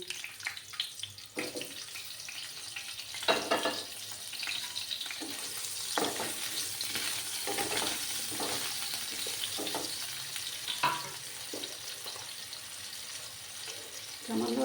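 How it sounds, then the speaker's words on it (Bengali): Cut potato fries in oil in a pan, a soft, steady sizzle broken by stirring clatter and scraping bursts, with a voice speaking now and then over the cooking. "এবার আমি একই তেলের মধ্যে আলু একটা কেটে রেখেছিলাম সেই আলুটা দিয়ে দিচ্ছি আমি"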